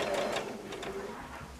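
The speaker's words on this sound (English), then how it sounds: "I've got it on a three-way stitch, so it does 3 stitches for each zigzag, and just keep them both together." A domestic sewing machine runs a three-step zigzag stitch joining two pieces of quilt wadding, a fast close mechanical whirr with rapid needle ticking, steady and moderately loud over a short burst.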